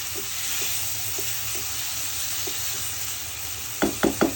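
Jackfruit seeds and dried fish are sautéed in a pan, giving a continuous oily sizzle with soft spatula scrapes spaced at intervals, then three sharper knocks close together at the end; no one speaks.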